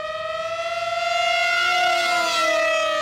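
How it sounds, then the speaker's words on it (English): A loud, steady 3D-printed wind-powered siren wails close by, its tone rising slightly and holding with a rich, layered hum. "They are wind-powered sirens."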